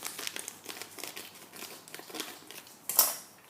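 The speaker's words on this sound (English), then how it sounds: "Cut the bag, take the fillet out" A plastic bag holding a frozen fish fillet crinkles and rustles under handling, with sharp snipping and crackling bursts as scissors cut it open. The final cut is the loudest, and no one speaks.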